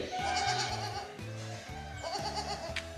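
Goats at a goat farm bleat close by in repeated wavering calls, several overlapping bleats filling the pen with little else around them.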